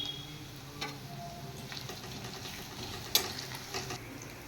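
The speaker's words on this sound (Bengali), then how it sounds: "সামান্য একটু আদা আর সামান্য একটু রসুন এবার এটা আর একটু ফ্রাই করো" Ginger and garlic frying in a pan give a faint, low sizzle, with a few soft clicks and one sharper tap of a utensil near the middle, quiet and without talking.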